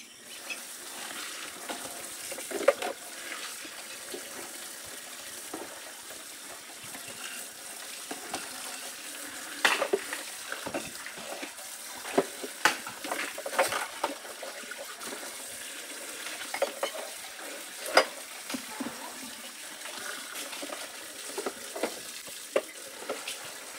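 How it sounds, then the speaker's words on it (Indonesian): Dishes and vegetables are washed under running water in a wooden house kitchen in Indonesia, with steady splashing from the tap and scattered clinks and knocks of plates throughout, with no talking. "sekarang aku mau lanjut lagi untuk cuci piring teman-teman"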